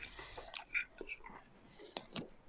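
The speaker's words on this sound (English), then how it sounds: "Excuse the munching." Someone munches on a pancake with lemon and sugar, soft close chewing and small crunchy bites in an irregular rhythm, with faint whispery mouth sounds.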